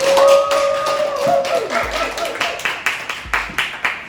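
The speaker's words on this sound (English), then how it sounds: "So everyone give a big clap for Miss Avery" Clapping at a children's STEAM camp presentation: after a brief wavering tonal sound, a small group claps in sharp, evenly spaced strikes, close and fairly loud, settling into a steady rhythmic beat.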